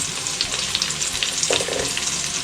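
Cashews and raisins fry in hot oil for biryani, a loud, steady sizzle and crackle that stays dense throughout, with a brief stirring scrape near the middle and no talking.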